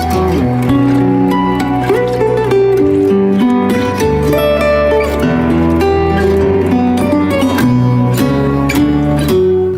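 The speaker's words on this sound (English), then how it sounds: "to the final master that sounds like this." A full, loud mix of acoustic guitar music with dense, steady levels and tightly compressed dynamics, playing continuously without vocals.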